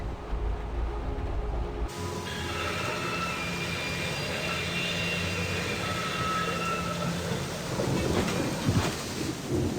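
A thunderstorm with rain in the game Syberia The World Before: a low rumble cuts off abruptly, then a steady broadband rain-and-wind wash continues with a swelling roll of thunder toward the end.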